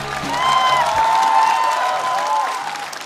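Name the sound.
audience applause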